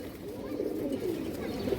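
A ring-eyed pigeon coos softly nearby in low, rolling murmurs that continue throughout the short stretch.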